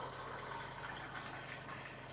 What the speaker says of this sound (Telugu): ప్యూరిఫైర్ అయినటువంటి వాటర్ ఇంకో గ్లాస్లో తీసుకుంటున్నాను.